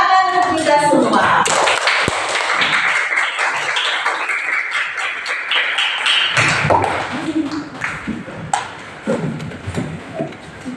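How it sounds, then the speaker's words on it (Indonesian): A classroom breaks into applause, with a burst of many hands clapping that builds and then thins into scattered claps and taps, mixed with voices talking. "tepuk tangan untuk kita semua"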